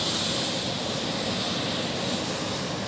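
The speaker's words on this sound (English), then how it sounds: "Okay, then City Hopper E190." A KLM Cityhopper Embraer E190 jet at Schiphol in Amsterdam gives off a steady, even engine roar, moderately loud and unbroken for a few seconds.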